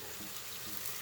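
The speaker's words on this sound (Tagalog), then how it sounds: "saka po natin ilagay yung toyo at saka suka" Soy sauce and vinegar pour into a pan while adobong kangkong is being cooked, giving a faint, steady hissing trickle of liquid throughout with no talking.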